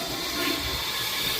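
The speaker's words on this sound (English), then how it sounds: "just enough to empty a little bit of water out of the tank and to flush the contents in the toilet bowl" A toilet flushes after a Gerber flapper is replaced, giving a steady, close, loud rush of water draining from the tank into the bowl with no speech.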